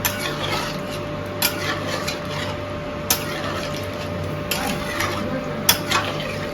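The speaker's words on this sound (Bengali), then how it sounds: "নুন দেওয়ার পর একটু নাড়াচাড়া করে দিতে হবে" Potatoes and pointed gourd stirred in a pan after salting, with a spoon scraping and clinking against the metal at irregular intervals over a soft, continuous sizzle.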